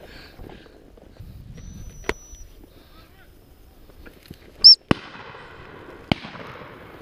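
Shotgun shots during rough shooting for woodcock and pheasant with spaniels outdoors: a few sharp cracks spaced over several seconds, one loud close blast and fainter reports, with a brief high whistle and light rustling between.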